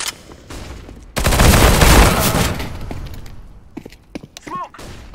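A flashbang grenade bursts in Counter-Strike on Dust 2 during a Premier match: a loud, sudden broadband blast that holds for about two seconds, then fades into scattered clicks and gunfire-like cracks.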